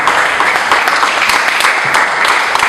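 A church congregation at a communion service gives a big round of applause, a steady, loud wash of many hands clapping close by.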